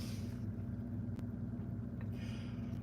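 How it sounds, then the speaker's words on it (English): A hybrid car's engine kicks on by itself and settles into a low, steady idling rumble heard from inside the car with the air conditioning running, constant and fairly quiet. "Whoops, car just turned on."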